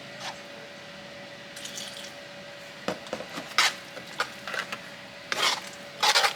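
A spoon scraping a pot while stirring meatloaf mix, heard as scattered short scrapes and clatters that grow louder toward the end, over a steady faint hum.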